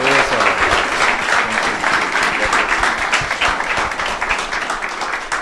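Congregation applauding loudly at a church sermon, a dense sustained burst of clapping from many hands that carries through the whole stretch and eases slightly at the end.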